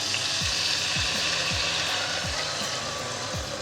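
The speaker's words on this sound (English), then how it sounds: "Add in all that nice sauce that we made." Sauce poured over vegan meatballs in a one-pot ramen dish sizzles and crackles steadily in a hot pot, with a few soft scraping stirs repeating roughly every half second.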